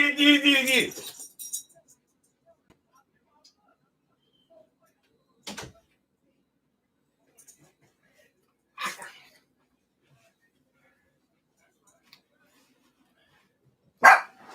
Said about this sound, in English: Let me go holler at the dog